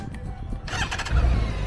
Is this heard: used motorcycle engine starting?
yes